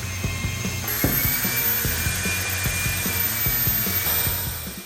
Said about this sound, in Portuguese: Agora a gente vai polir essa pintura para tirar o máximo de brilho desse preto.